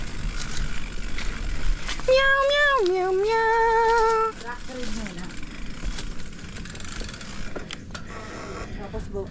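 A person imitates a cat's meow with a rising, wavering tone lasting about two seconds, loud and close, amid outdoor road noise during a ride.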